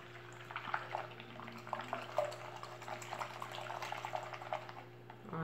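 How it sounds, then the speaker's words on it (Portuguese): Water poured into a container of homemade tutti-frutti dish detergent, a steady splashing and gurgling pour with small drips, close and moderately loud, with a low constant hum underneath. "Vou colocar água aqui dentro."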